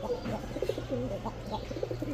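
A pair of Gorra pigeons coo nearby in soft, repeated, warbling rolls over a low steady hum, with a few faint chirps mixed in.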